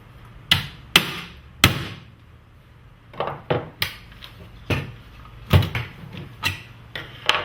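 A hammer bangs in uneven bursts while repairing a Wayne-Dalton I-Drive garage door opener: three hard blows, then a string of lighter, quicker knocks, each ringing briefly.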